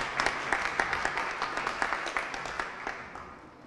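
Audience applause at a leadership conference, a lively burst of close, rhythmic clapping that slowly tapers off.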